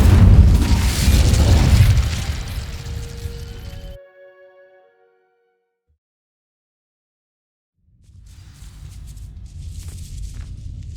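A burst of magical fire from the Incendio spell in Hogwarts Legacy igniting dry vines: a loud roaring, crackling blast for about four seconds, then near silence, then a lower rumbling ambience returns.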